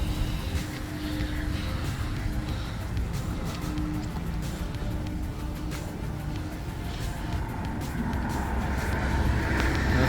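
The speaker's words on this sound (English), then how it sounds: "Sorry about the traffic noise in the background." Steady roadway traffic near the Hoover Dam bridge, a continuous broad rumble of passing vehicles that swells slightly toward the end, heard from the walkway with no talking.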